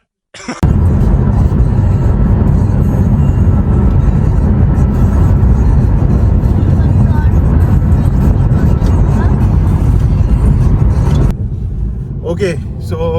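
A Volvo S60 cruises along the Yamuna Expressway, heard from inside as a loud, continuous road and engine rumble that eases slightly near the end, with talking over it.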